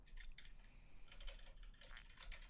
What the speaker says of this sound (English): Wait, who's typing now?